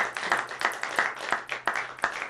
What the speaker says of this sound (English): we'll give Eduardo another round of applause